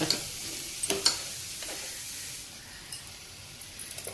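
Onion, tomato and green chili sizzle in hot oil as they are sautéed and stirred, a close steady frying hiss broken by a few spatula clinks, fading slightly toward the end.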